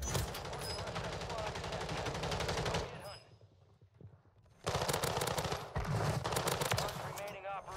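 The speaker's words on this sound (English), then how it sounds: "Shooting my weapon really well right now" Rapid automatic gunfire from the player's weapon in Call of Duty Warzone on Rebirth Island, loud sustained bursts that break off for a moment and then resume just as densely.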